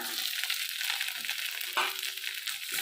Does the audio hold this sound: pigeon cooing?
no